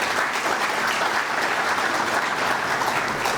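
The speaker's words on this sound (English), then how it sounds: "give them a big round of applause for that" An audience claps steadily throughout, a dense, even wash of applause from a sizable crowd with no voices standing out.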